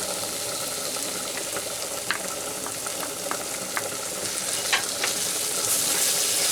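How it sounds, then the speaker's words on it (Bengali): Spiced banana flower (mocha) frying in a pan as ghee is stirred in: a steady close sizzle with scattered soft clicks of a spoon against the pan, no voices. "এবার আমি দিয়ে দেব এর মধ্যে ঘি"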